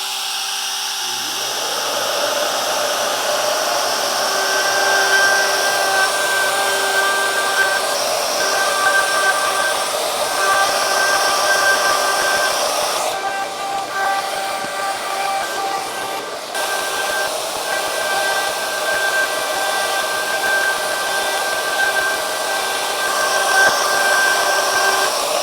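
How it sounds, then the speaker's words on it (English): A Shaper Origin handheld CNC router cutting an inlay runs as a loud, steady high-pitched whine that spins up at the start and holds for the whole stretch, with a brief change in tone partway through. "I can start the cut, turn on my machine."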